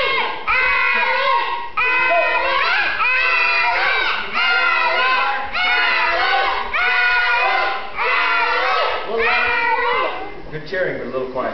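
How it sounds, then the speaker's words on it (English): A crowd of children shouts and cheers in loud, repeated bursts at a kids' karate fight, each rising then dropping, with a short quieter stretch near the end. "Cheering, but a little quieter."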